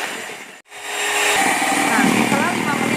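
An electric mixer beats garam masala cake batter at high speed with a loud, continuous close whir that cuts out briefly near the start and then resumes, with someone talking over it.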